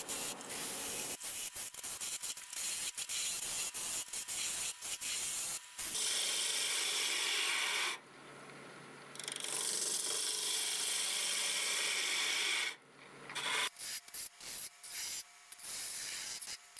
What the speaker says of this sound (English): The noise you're hearing is a small piece that got lodged in there.